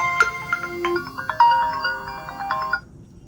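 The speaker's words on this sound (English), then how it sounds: "It's now calling Cindy. And we have it here. Okay, do you hear the sound?" A melodic ringtone plays for an incoming Bluetooth call on a Lenovo Watch Fit smartwatch, a loud, close sequence of bright electronic notes that cuts off near the end; no one talks.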